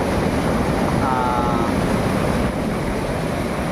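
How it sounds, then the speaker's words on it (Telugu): Floodwater from Yellamaraju lake rushes forcefully during a cyclone flood, making a loud continuous roar heavily buffeted by wind noise on the microphone, with no pauses throughout. "చాలా ఫోర్స్గా వస్తున్నాయి నీళ్ళు"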